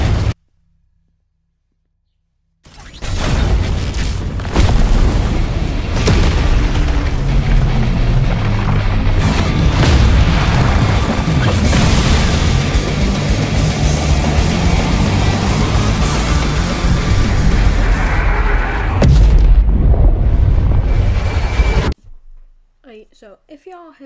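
Flame wave cannon explosions in the Roblox game Strongest Battlegrounds: a dense, loud run of booming blasts lasting around twenty seconds, starting abruptly after a silent gap and cutting off sharply.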